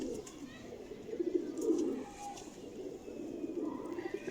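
A female Ferozpuri pigeon coos softly in a short low murmuring phrase, fairly close, over steady background noise.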